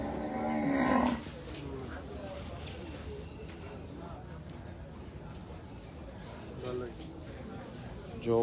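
Cattle at the Ratankandi cattle market in Sirajganj give a loud, close moo at the start, then a fainter one later, with crowd babble and talk throughout.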